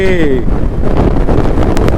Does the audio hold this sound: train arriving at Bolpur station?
no